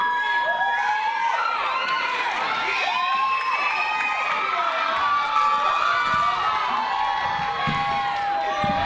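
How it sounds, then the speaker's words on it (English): A crowd cheers, whoops and shouts with high excited voices, loud and sustained throughout with little clapping distinguishable. "Give her a round of applause."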